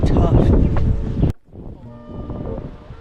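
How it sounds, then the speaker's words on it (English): Strong wind on a golf course roars against the microphone in heavy buffeting gusts, then drops abruptly to a lighter, steadier rush. "It's super windy."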